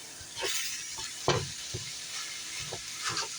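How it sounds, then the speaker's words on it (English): Meat browning in sesame oil in a pan, a steady close sizzle broken by several scraping stirs of a utensil, with no talk over it. "The meat is browning in the sesame oil."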